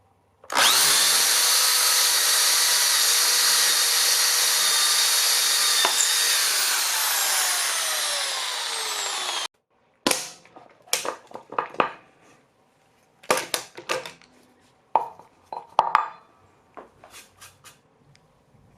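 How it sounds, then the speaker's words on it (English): A power drill whines loudly and steadily as it bores a hole through clamped 2x lumber, pitch sliding slightly, then stops, followed by scattered knocks and handling clatter. "we're going to drill a simple hole through this 2x material here that I have clamped in the jaw horse"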